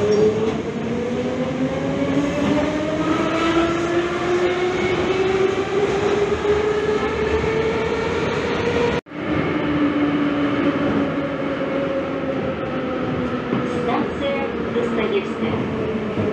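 A Moscow metro train runs through a tunnel with a steady, loud rumble and rising motor whine, broken by a brief sharp dip partway through before the roar carries on.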